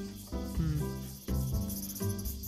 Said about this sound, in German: ich glaube, ich habe gerade eine Zikade aufgeschreckt